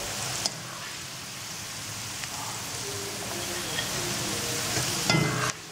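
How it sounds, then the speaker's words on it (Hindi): Okra (bhindi) frying crisp in hot oil, a dense, steady crackling sizzle that runs throughout like light rain on a surface, close and even, with a faint clink near the end. "ये बिल्कुल ज़बरदस्त सी फ्राई हो गई हैं भिंडियाँ, बहुत ज़बरदस्त क्रिस्पी सी"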